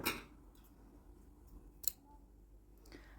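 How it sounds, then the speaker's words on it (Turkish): Scissors snip a strand of paper rope during a crochet bag project, a few quiet isolated clicks and snips in a near-silent room. "Hemen burada ipimi kesiyorum."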